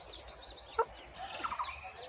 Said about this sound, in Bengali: আর একটা মুরগি বাচ্চা